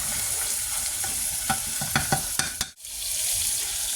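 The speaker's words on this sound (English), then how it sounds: "we should be seeing a nicely seared crust come over the top of our beef" Beef searing in a hot pan for a pub-style meal, a loud continuous sizzle broken by several sharp spatula scrapes and knocks, close up, with a brief sudden drop to near silence before the frying noise resumes.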